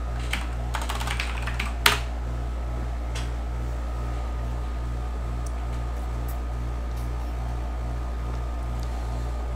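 Computer keyboard typing in a room with a steady air conditioner hum and fan drone, keystrokes scattered and fairly faint with a brief louder clatter near the start.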